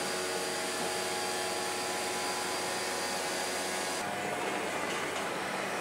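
A massive CNC machine shaping a granite edge whirs with a steady high-pitched spindle whine and airy hiss, shifting tone partway through as the tool changes, loud and continuous.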